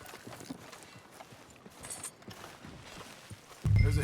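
A horse's hooves clip-clop faintly and rhythmically in Red Dead Redemption 2, soft muffled steps over quiet ambience before a sudden loud low thump at the very end.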